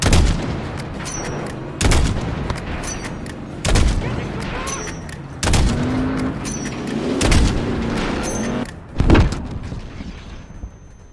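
Gunfire in a modern warfare video game: a series of loud, sharp shots spaced about two seconds apart, each with a booming tail, with battlefield clutter and voices in between.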